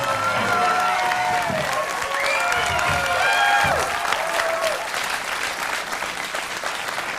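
Studio audience applause and cheering for an announcer on a TV talk show set, dense and steady throughout, with whoops and voices riding over the clapping before it thins slightly near the end.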